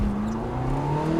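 Ferrari 355 engine revving, a steady rising mechanical tone with a strong harmonic whine, heard close and alone for a brief moment.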